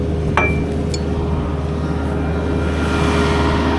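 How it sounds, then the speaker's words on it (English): Metal hooks unhooked on a mobile shelter give a couple of sharp, bright clinks early on, then a steady low hum and rushing noise carry on beneath. "Gotta get these hooks unhooked."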